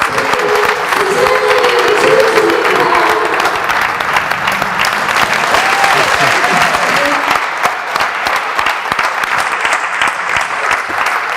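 Applause from the audience at a Printemps du rire press conference, loud and sustained, a thick wash of clapping close by with some faint crowd murmur underneath early on.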